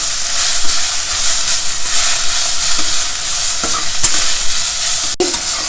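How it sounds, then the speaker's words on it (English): Chopped methi (fenugreek) leaves stir-fried in a pan, loud constant sizzle with a spatula scraping and tapping the pan at irregular intervals, close up. "Next add in this chopped methi leaves. Just stir fry it for 2 to 3 minutes."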